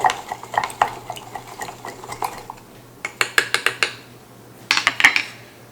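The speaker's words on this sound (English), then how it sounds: "I'm just going to take the end of a wooden spoon and stir that some." Homemade unripe peach vinegar stirred with the end of a wooden spoon in a container, giving close, rapid bursts of knocking and scraping against the sides, with brief pauses between.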